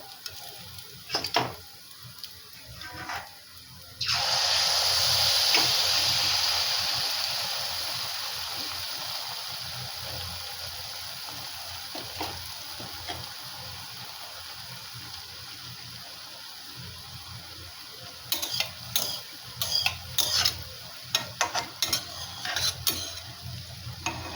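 Rice flour pitha dropped into hot oil, a sudden loud sizzling burst that gradually fades into steady bubbling frying, followed by clinks and scraping of utensils near the end.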